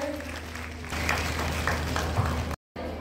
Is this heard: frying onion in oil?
no